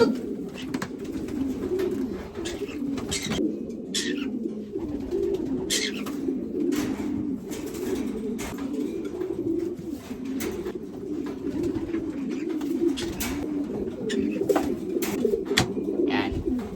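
California racing pigeons coo in soft, repeated rolling calls throughout, close by, with occasional clicks and shuffling in a loft and no talk.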